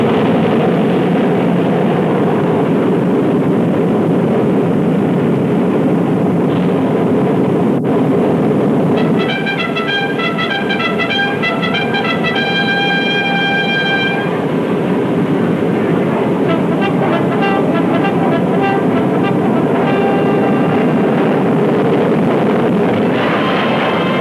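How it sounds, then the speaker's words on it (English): A 100-ton Northrop flying wing aircraft takes off with a loud, continuous engine roar that stays steady and unbroken for the whole stretch, no voices over it. "In a matter of seconds, this 100-ton giant is airborne."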